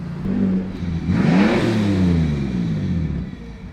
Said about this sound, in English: I'm gonna give them a quick rev bomb